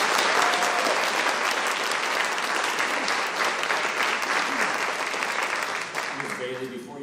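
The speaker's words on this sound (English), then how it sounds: "we already gave the jazz band from Lake Belton Middle School a round of applause" A school board meeting audience gives sustained applause for the Lake Belton Middle School jazz band, steady dense clapping throughout with a few cheers and voices mixed in near the end.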